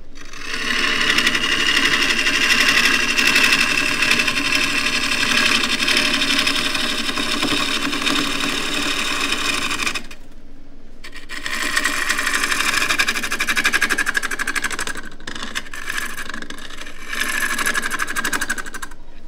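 A wood lathe spins a natural edge tripod bowl as a tool cuts away the central lump, giving a continuous loud whirring grind that pauses briefly midway, then resumes.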